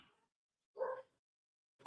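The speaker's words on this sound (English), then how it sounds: "I hear the pup barking." A single faint, distant bark sounds in near silence, brief and muffled.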